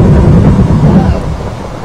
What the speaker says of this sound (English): It's really starting to rain, isn't it?